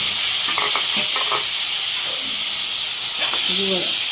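Tomato pieces fry with a loud, close sizzle and hiss while being stirred in a pan for a bitter gourd and tomato curry, with a few scraping stirs and brief soft speech.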